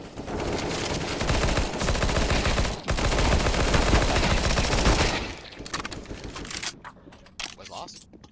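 Rapid, loud gunfire from the video game CS:GO fills most of the stretch, with a brief gap near three seconds, then tails off into scattered shots and quieter game noise as players talk over it.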